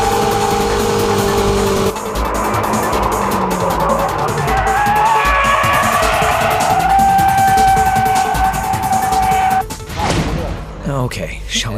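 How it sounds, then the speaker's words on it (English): A car drifting with sustained tire squeal over a loud engine, the squeal rising and holding for several seconds before cutting off near the end, with talk running over it. "Okay, shall we try this dynamic drifting?"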